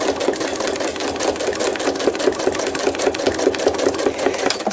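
A sewing machine runs steadily, stitching a zigzag pattern for thread art made from a photo, a fast continuous whirring rhythm close by with no talk over it.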